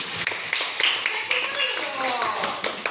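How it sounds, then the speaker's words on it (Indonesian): Classroom clapping for a student group, short scattered claps mixed with children's voices talking over them. "Tepuk tangan untuk kelompok A."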